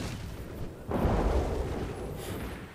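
A cannon fires in the fantasy video game RIFT, a deep booming blast that swells suddenly and rolls off slowly over a couple of seconds, loud against faint game ambience.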